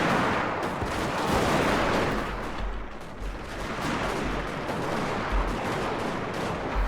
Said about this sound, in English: I'm actually getting shot at.